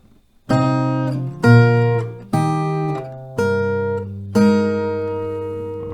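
Five strummed acoustic guitar chords from a song intro, each struck firmly and left to ring about a second before the next, played alone at a steady pace.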